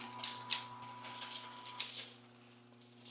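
Hot water trickles and splashes as it is poured slowly into the ice bin of a Scotsman ice and water dispenser, a soft steady flow over a low mechanical hum.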